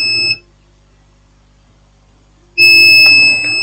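Two loud, steady electronic beeps from a multimeter continuity test on a phone motherboard, one brief and one longer, separated by a few seconds of near silence.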